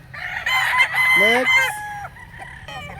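A gamefowl rooster crows once, loud and close, a rising then falling call lasting over a second, with a brief spoken word and other bird sounds around it.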